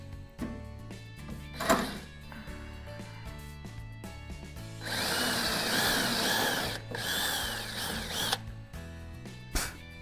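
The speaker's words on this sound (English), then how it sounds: "This should allow us to drill a large enough hole for our screw to move through cleanly." A power drill with a 9/64 bit bores through Varibo closed siding made of MOSO Bamboo Thermo, giving a sustained gritty whir of several seconds and a few shorter bursts, all under steady background music.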